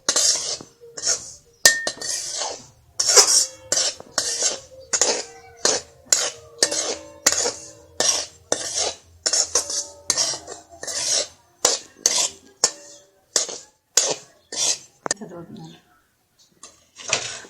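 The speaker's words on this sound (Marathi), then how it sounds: "आता कढईमध्ये रवा घालून थोडंसं तूप लावून त्याला असं भाजून घ्यायचं आहे" Semolina roasting with ghee in a kadai is stirred with a utensil, giving a steady series of close scraping and clinking strokes about twice a second.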